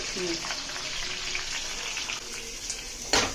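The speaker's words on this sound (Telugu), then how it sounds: "అది కూడా బ్రౌన్ కలర్ వచ్చేదాకా వేయించుకోవాలి." Finely chopped green chillies and onion fry in a pan until brown, giving a continuous close sizzle with faint clinks and a sharp scrape near the end, while people talk quietly underneath.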